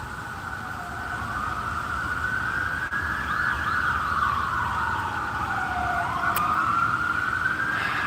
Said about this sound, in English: Before the next siren and cop and whatever ambulance comes around